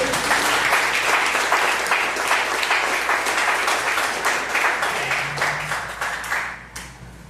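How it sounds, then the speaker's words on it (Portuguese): A church congregation claps hands in praise, a dense, steady burst of many hands close by that carries on for several seconds before thinning and fading out near the end. "Desocupe as mãos e bata palmas para Jesus"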